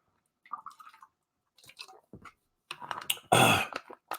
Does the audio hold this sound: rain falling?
no